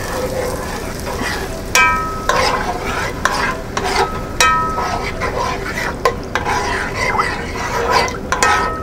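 Cream with softened onion reducing in a pan, a dense bubbling sizzle running throughout with repeated clinks and scrapes of a spoon stirring against the metal.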